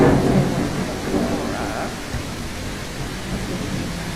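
A thunderstorm in the video game The Isle: a steady wash of heavy rain noise with a low rumble of thunder near the start, loud and continuous, with faint voices underneath.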